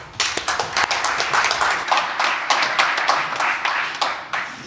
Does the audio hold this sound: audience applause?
yes